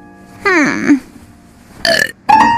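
Baby Luka lets out a loud, drawn-out burp, followed by two shorter burping bursts after a brief pause, all standing alone without talk.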